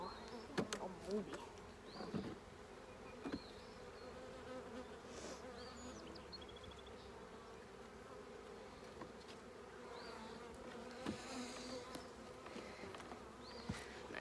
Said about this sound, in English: there's bees, flies, wasps, all sorts of things flying into it right now